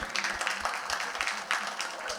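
A comedy club audience applauds, a brief burst of scattered clapping that rises and falls under a comedian's voice.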